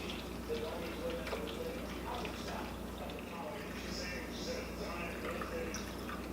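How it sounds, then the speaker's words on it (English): Water is poured into a Follett E78 ice maker, a continuous trickling and splashing fill with soft drips that runs the whole time at close range, with no voices. "I'm just filling this to water until it reaches the top of this lip"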